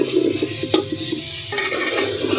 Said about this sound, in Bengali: দেখো এই যে ওটাকে নাড়া হচ্ছে এখন